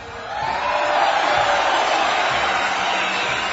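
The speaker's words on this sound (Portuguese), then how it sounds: "Nossa, com eco e tudo esse aplauso." Applause with a noticeable echo fills a post-match web radio broadcast, a dense, steady wash of clapping that swells in the first half second and holds evenly, with no talk over it.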